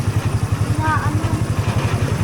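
A boat engine runs steadily and loudly close by, with a rhythmic low chugging pulse throughout and a faint tonal sound briefly above it.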